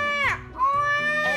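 A person vocally imitates a baby crying, a wailing harmonic cry that rises and falls over about a second and a half, close and loud, with no other talk.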